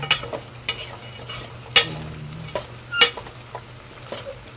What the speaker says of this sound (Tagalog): Haluin na natin guys.